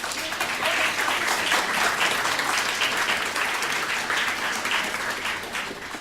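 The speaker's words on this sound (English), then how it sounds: "So thank you and one round of applause." Sustained audience applause at a youth leadership event in India, steady and dense for the whole stretch with no clear talk over it.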